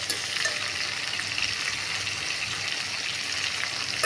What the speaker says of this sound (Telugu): ఇటువైపు కూడా తిప్పుకున్నాం అప్పుడు రెండు వైపులా వేగుతాయి